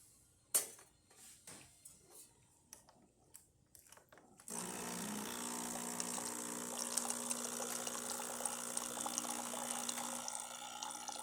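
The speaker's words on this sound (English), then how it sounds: "So let's test the hot water." Hot water hisses and splashes steadily from the nozzle of a Breville Infuser espresso machine after a few quiet clicks and knocks, with a low pump hum underneath.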